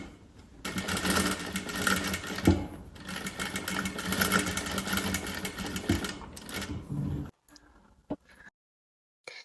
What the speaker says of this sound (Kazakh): касая бейкамызды мойынға жалғастырып тігеміз